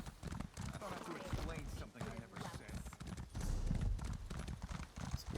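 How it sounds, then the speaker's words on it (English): Horse hooves clip-clop steadily in a video game as the player rides the horse along, a continuous rhythmic trot under frequent talking from the player. "I'm gonna ride my horse this way."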